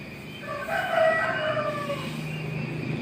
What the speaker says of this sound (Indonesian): Ada suara ayam, banyak yang berkokok.